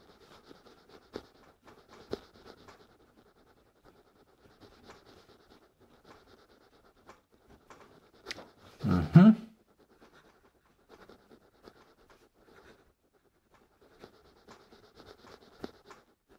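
A Linc Pentonic 0.7mm ballpoint pen scratches faintly across paper in short strokes and pauses in a quiet room, with one louder rustle midway.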